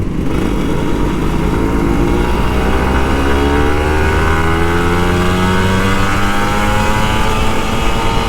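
Kawasaki Ninja RR motorcycle engine revving hard under throttle, a loud continuous two-stroke whine whose pitch climbs steadily as it accelerates, close and dominant throughout.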